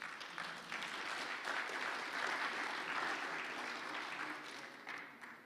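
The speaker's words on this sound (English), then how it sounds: "Everyone, round of applause." Sustained audience applause at a blockchain and zero-knowledge tech conference in Lisbon, a dense, steady clapping that fills the hall, holding fairly level for several seconds before tapering off slightly at the end.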